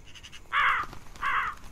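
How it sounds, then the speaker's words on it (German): Two loud, harsh caws from crows in a video game cornfield, a short call then a second after a pause, close and clear over a quiet background. "So, Krähen, haut ab."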